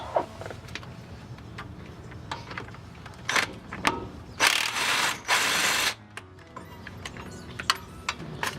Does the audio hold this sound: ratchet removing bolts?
yes